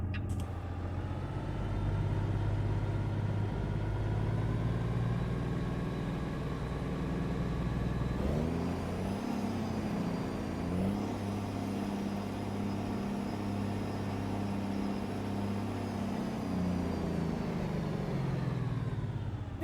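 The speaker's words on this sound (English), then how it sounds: "I'm still partial to the Caterpillar engines, but you know, sounds pretty good." A diesel truck engine idles steadily in a truck simulator game, a loud continuous rumble that shifts pitch partway through and then settles back into a smooth, even drone with no talking.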